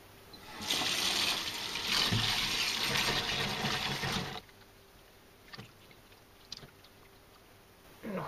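A freshly caught Japanese halfbeak-like ponyfish (hiiragi) rinsed under running water: a steady close splash of tap water for about four seconds, then quiet with a few faint knocks and drips.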